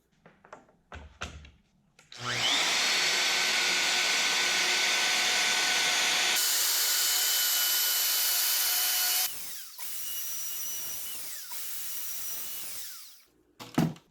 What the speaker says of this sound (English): going to route some dados and then detail the dado with a chamfer bit.